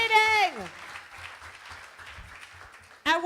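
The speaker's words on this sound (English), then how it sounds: "Clap yourselves for participating." Scattered applause from a modest crowd follows a brief vocal whoop, fairly soft and steady, before a voice cuts in at the end.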